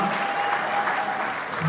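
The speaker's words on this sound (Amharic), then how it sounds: "ጭብጨባችሁ ከፍ ብሎ እንዲሰማ እንፈልጋለን" Audience at an Ethiopian film premiere breaks into dense, sustained applause filling the hall, with a speaker's voice over the clapping.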